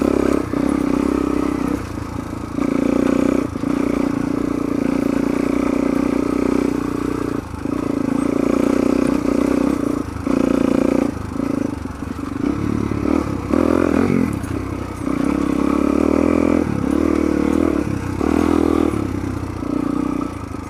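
A dual sport motorcycle ridden on a commute: a steady engine drone runs close and loud throughout, rising and dipping with brief throttle changes, mixed with wind rush and some rattling clatter, with no talk.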